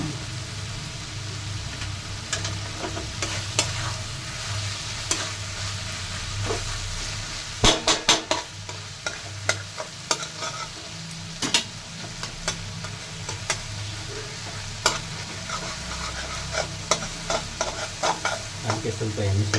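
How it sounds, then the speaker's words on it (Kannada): Chicken masala gravy frying in a pan with little oil, a continuous soft sizzle broken by repeated spoon scrapes and stirring clatters, quiet and close. "ಫ್ರೈ ಆಗ್ತಾಯಿದೆ."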